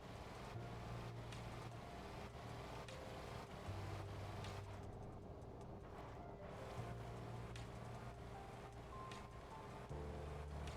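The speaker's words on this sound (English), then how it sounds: "Oh, the engines." Ship engines in the Stormworks game drone steadily at low pitch under a faint hiss, with a soft repeating clicking on top. The sound is quiet and continuous, with no talk.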